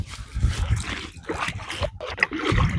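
A kayak is paddled on a lake, with uneven splashes and watery gurgles as the blade dips and pulls, close to the microphone and without any talk.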